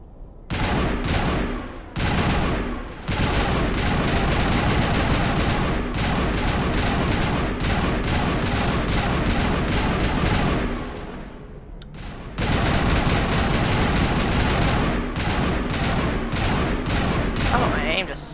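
Enemy gunfire in the Mass Effect game, long loud sustained bursts of automatic weapon fire with a short lull midway before the shooting resumes, a voice talking over it in places.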